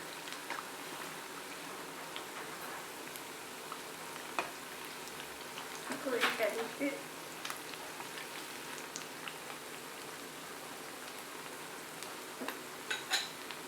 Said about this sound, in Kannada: ಎರಡೂ ಕಡೆ ಗೋಲ್ಡನ್ ಬ್ರೌನ್ ಬರೋ ತನಕ ಫ್ರೈ ಮಾಡ್ಕೊಳ್ಳೋಣ